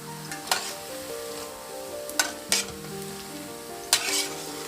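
Drumstick leaf bonda fritters sizzle steadily in hot oil as they are turned, with a few sharp clatters and splashes from the flipping breaking through the continuous frying hiss.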